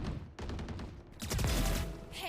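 Rapid bursts of gunfire from a video game shooter crackle in quick volleys, loud and dense with short gaps between bursts.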